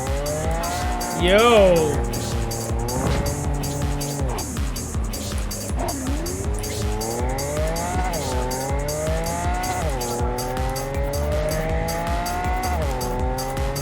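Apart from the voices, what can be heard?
car driving wildly with tires squealing, video game Cyberpunk 2077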